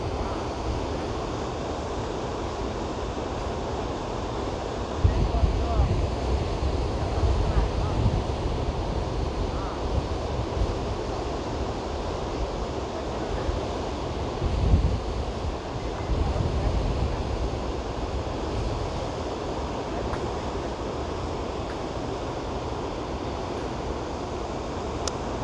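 Shivanasamudra waterfall pours with a steady, broad roar of rushing water, continuous and fairly loud throughout, with wind buffeting the microphone in a few gusts.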